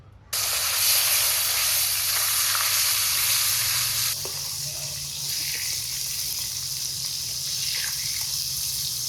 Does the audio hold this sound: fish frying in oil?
yes